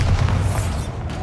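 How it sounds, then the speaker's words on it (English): The Bombarda blasting spell going off in Hogwarts Legacy, a single loud, deep booming explosion that rumbles and slowly fades. "Bombarda."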